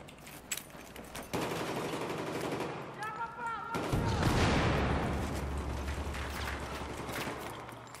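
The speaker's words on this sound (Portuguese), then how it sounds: "De onde tá vindo o tiro, mano?" Gunfire in the video game Battlefield 1: dense, loud bursts of automatic weapons and scattered single shots fill the scene, with a swelling rumble partway through and a voice speaking briefly under the din.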